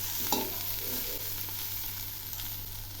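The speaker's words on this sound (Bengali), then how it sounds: "বিনসগুলো ভাজা হয়ে গেছে" Green beans sizzle and spit in a hot pan as they finish frying with only a little water left, with a steady close crackle and a few soft stirring scrapes, no voices.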